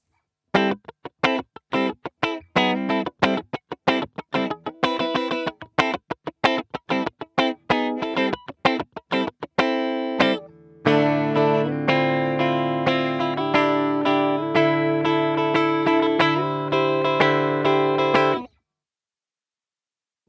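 An electric guitar played through a Mooer GE300 processor strums loose open strings, first a run of sharp, evenly spaced plucks, then sustained ringing chords with a processed, effected tone, played alone until cut off.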